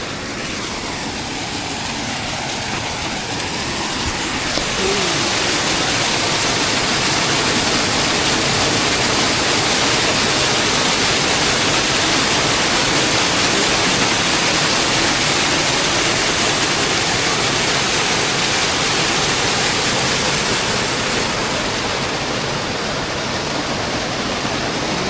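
Taytay Falls in Majayjay, Laguna roars with a loud, steady, broadband rush of cascading water that fills the whole scene from close by and barely changes over the full length.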